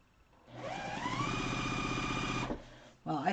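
A sewing machine stitching quilt pieces for a quilt-along runs in one steady, close, even burst of about two seconds, its motor whirring with rapid needle clatter, then stops; a voice follows right after.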